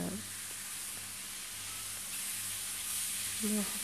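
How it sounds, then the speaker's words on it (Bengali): Chicken fries in a pan with a steady, fairly faint sizzle and hiss that runs unbroken through the short stretch, with no voices heard. "আমি চার মিনিট চিকেনটাকে ফ্রাই করছি"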